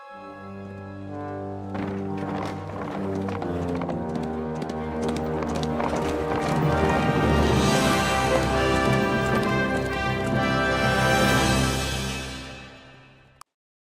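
Horse hooves clip-clop in a steady rhythm through the medieval game Kingdom Come Deliverance II, set under a swelling orchestral score that builds and then cuts off abruptly.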